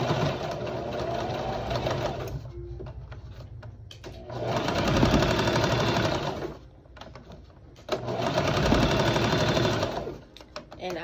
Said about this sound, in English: We're gonna sew these back together just like we cut it.